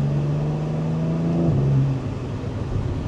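A Porsche Cayman GTS engine drones loudly and steadily, its pitch dropping as it eases off, heard close with a constant rumbling exhaust and factory exhaust pops.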